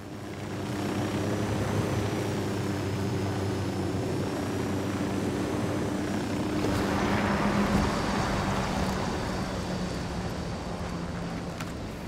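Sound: drone flying, from video game Ghost Recon Wildlands

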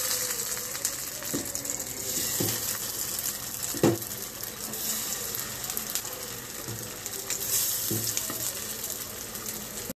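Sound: shallow frying chicken shami kababs in oil in a pan

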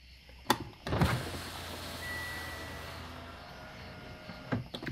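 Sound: Mitsubishi Outlander power window rolling up and down

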